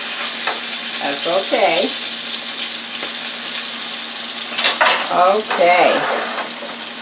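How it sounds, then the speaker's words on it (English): Fish frying in a pan for Southern fried fish, a steady hiss running throughout with brief stirring and handling noises, under a few short spoken words. "we're going to let that cook until it gets hard on the side that we just turned it on"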